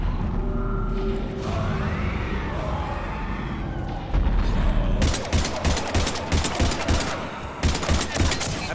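Heavy gunfire in the shooter game Mass Effect 3 starts as distant rumbling under low sounds, then turns into loud, rapid volleys of automatic shots that crack and clatter close by with a few pauses.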